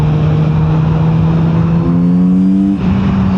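Engine of a 2024 Kawasaki Z900RS motorcycle under way, a loud steady drone whose pitch climbs in stepped harmonics as the rider accelerates, with wind rush over it and no talking.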